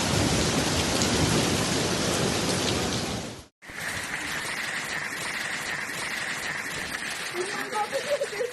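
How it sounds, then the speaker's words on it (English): A violent hailstorm in Alcarràs, in Catalonia's Lleida province, roars as a loud, dense hammering of hail and rain with thunder-like rumble, briefly cutting out before resuming as a steady downpour with a faint voice underneath. "a violent hailstorm struck the town of Alcarràs, located in the Lleida province of Catalonia"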